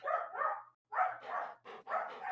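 A dog barks angrily at a cat, several loud, close barks in quick bursts separated by short pauses, with no talking over them.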